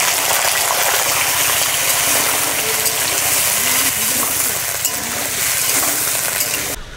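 Potatoes dropped into hot oil in a kitchen while a prawn curry is made, giving a loud, dense, bubbling sizzle throughout, with a few rattles and scrapes near the start and no speech.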